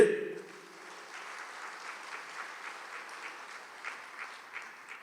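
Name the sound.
applause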